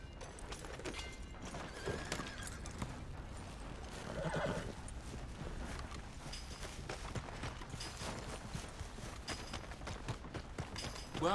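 A horse in the video game Red Dead Redemption 2 whinnies and clip-clops, hooves thudding steadily throughout amid game ambience, with a loud neigh rising near the middle.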